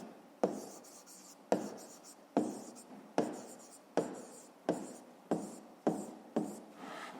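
A pen scratches numbers onto paper during a fifth-grade math exercise, about ten short strokes in an even rhythm, each starting with a sharp tap, close and quiet with no voices.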